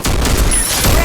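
Burst of rapid gunfire in the Free Fire battle-royale game, dense overlapping shots and booms filling a loud, continuous second of sniping-mode combat.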